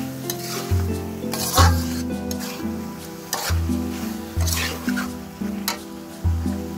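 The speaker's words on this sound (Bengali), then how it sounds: "সামান্য একটু পানি দিয়ে আবার জাস্ট একটু কষিয়ে নিচ্ছি" Chicken and masala for khichuri are stirred in a pan with a splash of water, giving loud, repeated spatula scrapes in a steady rhythm over a constant close sizzle.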